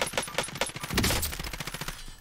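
Gunfire in the Warzone battle royale game: rapid automatic bursts of sharp shots in quick rhythm, close and loud, with a heavier blast midway before the firing tapers off.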